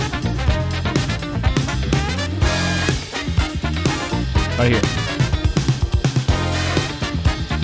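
A drum fill of double strokes capped by a quick three-note tail, played within a busy full-band groove in a drummer's performance, loud and dense with a brief spoken phrase.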